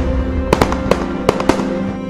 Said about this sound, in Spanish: en la noche a quemar cohetes